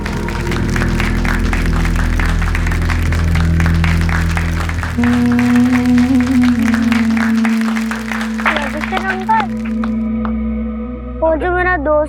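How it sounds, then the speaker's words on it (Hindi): Loud applause from a studio audience, dense clapping that fills the first several seconds, then thins out as music and a sustained tone take over, with scattered claps near the end. "जोरदार तालियां"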